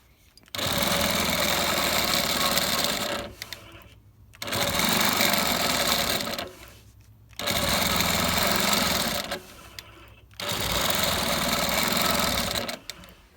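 A longarm quilting machine stitches binding onto a small quilt in four loud, even bursts of rapid mechanical whirring, separated by short pauses where the motor drops to near quiet.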